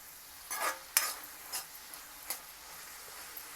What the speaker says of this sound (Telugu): కలిపి పచ్చి వాసన పోయే వరకు వేయించుకోవాలి.